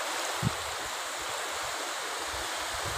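Steady, continuous surf wash at Jiao Lao Beach in Chanthaburi, an even hiss of waves with no distinct breaks, heard alone and fairly soft.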